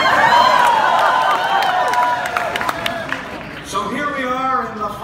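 Rambunctious crowd at an NDP political rally in Vancouver, a steady loud murmur of voices with scattered claps and cheers, easing briefly before a voice rises over it near the end.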